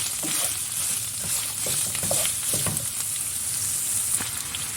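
Chopped onions sizzle in a pan on top of frying liver for a liver sauté: a steady, close crackling hiss with occasional stirring scrapes, continuous throughout and no talking.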